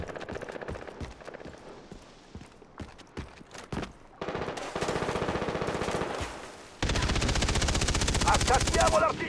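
Machine guns fire in a video game battle against rebels and scouts. Rapid bursts of gunfire come close and loud, growing into a dense, continuous fusillade by the end.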